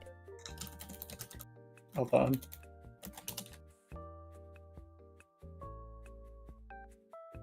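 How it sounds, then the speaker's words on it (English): Light keyboard typing comes in quick clattering bursts, fairly faint, mixed with a short spoken remark and soft tonal background music. "Oh, I hear typing."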